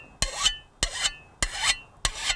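A hand file sharpening a garden tool blade with four slow, evenly spaced rasping strokes, each a close, gritty scrape that rises and then stops before the next one.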